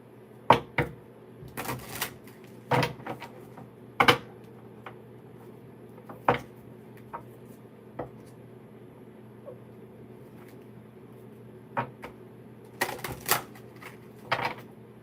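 Tarot cards being shuffled for a reading, with sharp irregular riffles and clacks scattered over a quiet, humming room, clustered at the start and again near the end.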